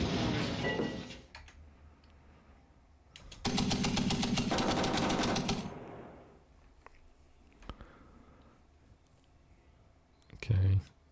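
A tank firing in the video game Armoured Commander II, a sustained rapid rattling burst of gunfire lasting about two seconds, preceded by a loud noisy blast and followed by scattered clicks and a brief final thump.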